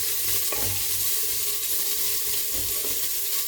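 Onions and green chillies sauté in a pan for paneer pulao, giving a loud, continuous close-up sizzle with occasional soft stirring movements and no voices.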